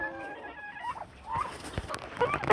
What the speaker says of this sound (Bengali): এটাই আমার ফাইটার হাসিল মুরগি, বর্তমান 3 মাস বয়স।